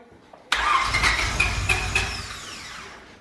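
A car's tuned Honda B18C4 engine cranks and catches abruptly, then runs at a steady idle with a high whine, close by and loud, slowly settling.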